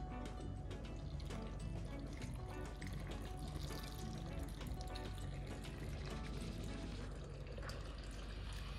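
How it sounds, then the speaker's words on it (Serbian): Cooled water is poured into a glass jar of cherry tomatoes being preserved for winter, a faint, steady liquid trickle running for several seconds with soft splashes, close by and quiet. "voda se ohladila i sada ću sipati vodu u teglu"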